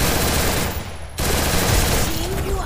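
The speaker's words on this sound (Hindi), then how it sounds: "क्योंकि सामने गोलियां चल रहा था" Rapid automatic gunfire in a battle royale shooter game, a dense close fusillade that breaks briefly and then resumes, with faint talk underneath.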